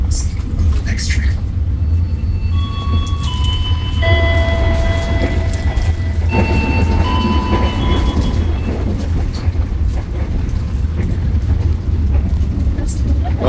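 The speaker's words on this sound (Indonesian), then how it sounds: "before the train completely stops" The Argo Dwipangga passenger train in Indonesia arrives at a station and slows with a constant loud rumble and rattling wheels. High brake squeals whine in the middle, and voices speak over the noise.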